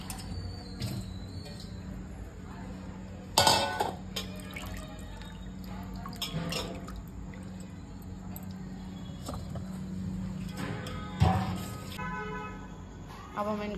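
Ridge gourd (turai) being rinsed in water in a home kitchen, with intermittent splashes and drips, a couple of sharper sloshing bursts, over a steady low background hum.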